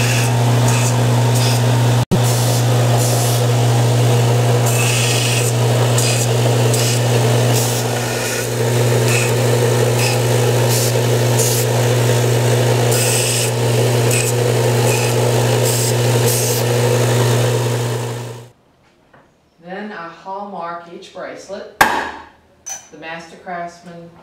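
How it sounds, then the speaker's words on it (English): A belt sander grinds half round wire for an adult size bracelet, a loud steady motor whine with shifting grinding tone for about eighteen seconds, then stopping abruptly before someone speaks briefly. "Now I'm going to sand it on the belt sander."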